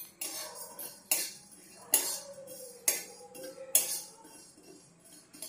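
Spices being stirred in a hot kadai for mango pickle: a spoon scrapes and clinks against the metal pan in about five separate strokes, close and fairly quiet, with no talking.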